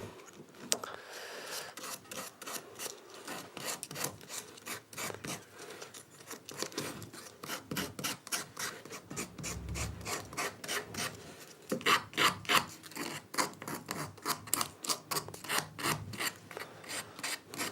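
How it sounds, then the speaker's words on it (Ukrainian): Carved wood being hand-sanded with 180-grit sandpaper wrapped on a foam pad: rapid, steady rasping strokes close up, repeating throughout with a few louder scrubs, no talking. "Потім після цього пройдуся зверху така наждачка на поролончику"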